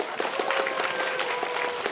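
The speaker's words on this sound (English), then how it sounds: "Let's give a big round of applause" A crowd gives a full round of applause at a live talk show taping, dense steady clapping that fills the room throughout.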